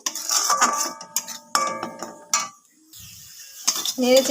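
Chutney is stirred in a metal kadai to thicken it, with a spoon clanking and scraping against the pan in bursts of ringing metallic hits, a short quiet gap, then more stirring close by.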